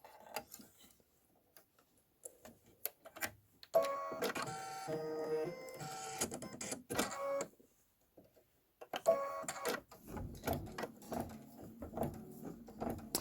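A home embroidery machine stitches a corn silk fringe in white thread for a farmhouse quilt block, its rapid mechanical needle ticking running in bursts with short pauses between stitching runs.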